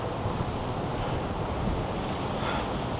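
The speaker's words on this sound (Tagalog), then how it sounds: "Ang lakas na ng hangin." Strong wind roars steadily into the microphone outdoors in Brisbane near The Star, a dense, constant rush with no voices.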